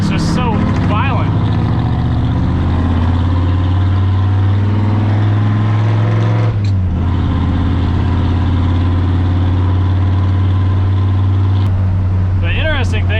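A high-compression Ford F100 engine on a street drive throbs loudly and close, a steady low drone with a brief throttle stab and pitch shift midway, as if downshifting, while a voice talks over it.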